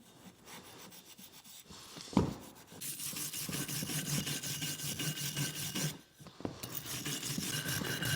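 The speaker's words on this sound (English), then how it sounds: "For all the nooks and crannies, wire brush works a little bit better than the Scotch-Brite." A wire brush scrubs parts during a Mitsubishi Lancer Evolution VIII rebuild, making close, rasping strokes that run in steady bursts with a sharp knock and brief pauses between passes.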